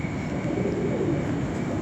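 Old Kasuri pigeons at a pigeon-keeping loft, giving soft low cooing that runs continuously under a steady background hum, with no speech.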